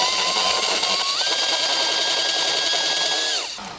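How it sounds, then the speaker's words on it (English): Electric hand mixer beating mayonnaise and sour cream for a dill pickle dip, a loud steady motor whine that shifts up in pitch partway through, then winds down and stops near the end. "And then we're going to go ahead and add the mayonnaise and the sour cream, and we're just going to beat these together as well."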